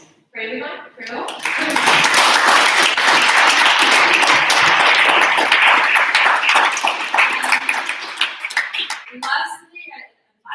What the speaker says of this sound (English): A big applause for everyone.